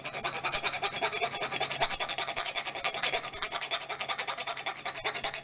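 A small hand grinder rasps a whole nutmeg for a vegan porridge, giving a steady run of quick, rhythmic scraping strokes, close and fairly quiet, with no talking.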